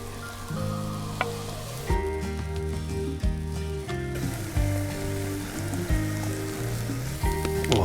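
Chilli and chorizo frying in a pan outdoors, a steady sizzle running throughout with occasional clinks and stirring knocks, with no one talking.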